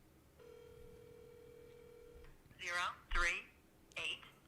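An outgoing phone call heard through the handset, with a steady tone for about two seconds followed by voice-like automated segments, faint and thin.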